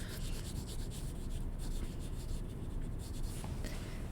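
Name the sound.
crayon coloring over a drawing on paper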